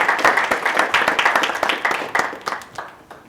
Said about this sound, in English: Can we extend just one more round of applause thanking Dr. Sue?